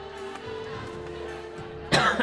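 A streamer's lingering post-viral cough: a single sharp, loud cough burst near the end, with quiet background noise and a faint steady tone before it.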